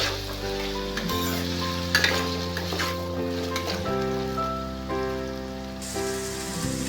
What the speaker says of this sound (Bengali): এরপর কড়াতে দেওয়ার পর আমি কিছুক্ষণ আলুটাকে ভেজে নেব।